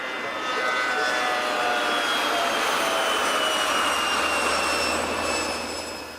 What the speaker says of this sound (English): The snow sweepers and plows are constantly moving, even if a plane is landing or taking off.